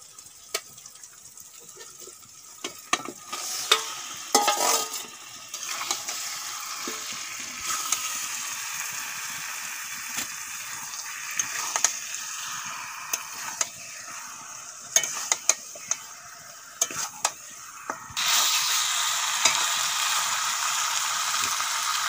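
Spiced duck meat fries in a pan and is stirred, a low, crackling sizzle broken by many sharp scrapes and clatters of a spoon against the pan, with a louder burst of frying near the end and no speech.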